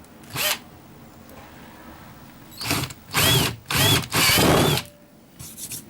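A power drill with a 9.5mm bit bores into a sit-on kayak hull in several short bursts of whirring and grinding, loud and close, separated by brief pauses with no talking.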